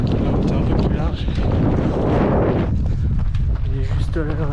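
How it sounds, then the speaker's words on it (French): Strong gusting wind buffets the microphone on a mountain trail during the UTMB TDS trail race near Lake Tombal, a steady loud rumble with footsteps and a voice briefly heard toward the end. "Il commence à avoir pas mal de vent"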